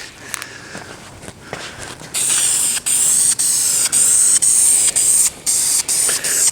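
Spray paint hisses onto dash trim in a medium first coat, starting after a quiet stretch with faint clicks and then running as steady, close bursts with brief gaps between passes.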